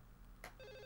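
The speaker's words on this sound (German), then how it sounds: "hier klingt ja noch das Telefon." A telephone rings in the survival horror video game Silent Hill 4: The Room, faint, with a short burst followed by a steady electronic ringing tone, no talking over it.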